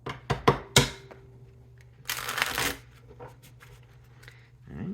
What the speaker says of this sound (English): Let's do one more good shuffle.